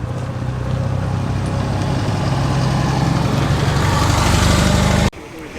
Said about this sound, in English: Fiat 500 follows that lovely little Austin 7.